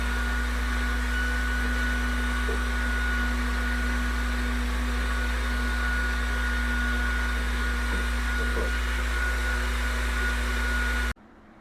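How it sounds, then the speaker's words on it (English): A vacuum cleaner runs steadily while cleaning out a Yamaha Bear Tracker 250cc ATV, producing a constant loud whooshing whine with a low hum, then stops abruptly at the end. "I got it vacuumed out pretty good"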